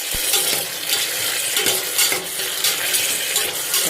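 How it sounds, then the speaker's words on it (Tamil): Tomatoes are stir-fried with vegetable rice in a pan, giving a steady close sizzle under repeated scraping and clinking of a spoon against the pan, with no talking. "தக்காளி சேர்த்து நல்லா வதக்கிக்கலாம்."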